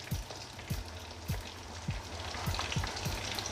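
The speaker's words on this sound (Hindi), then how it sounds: "इसमें हम ये कस्टर्ड पाउडर के 2 भर के चम्मच डालेंगे। और अच्छे से मिक्स करेंगे इसे।" A spoon stirs two heaped spoonfuls of custard powder into half a cup of milk, making steady, evenly spaced knocks against the cup with a soft swishing underneath.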